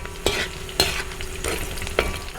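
Small ginger pieces sizzle and crackle in hot coconut oil, with a few sharp clacks of a spoon stirring the pan at a steady, close range and no one speaking.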